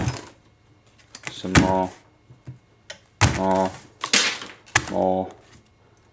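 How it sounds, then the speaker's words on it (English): Stacks of greeting cards dropped onto a floor land in a few sharp slapping clatters, each with a brief papery rustle, fairly close and loud, with quiet pauses between drops. "now, okay, I've got a lot of cards on the floor"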